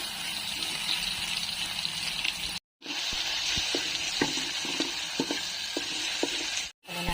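Garlic sizzles steadily in a frying pan, a dense continuous hiss broken by two brief drops to silence, with soft scattered clicks of stirring throughout.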